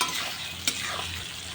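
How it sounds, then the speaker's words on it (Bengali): Chopped onions fry in a pan with a steady close sizzle, broken by a single sharp scrape of a stirring utensil. "এইভাবে পেঁয়াজগুলো আমি ভেজে নিতে থাকবো।"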